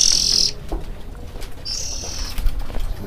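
Breeding birds in an aviary of about nine or ten pairs, with high sharp calls in two bursts and brief wing flaps over a low background rumble.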